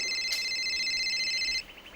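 A phone rings with a bright electronic trill lasting about a second and a half, then stops, leaving a quiet room.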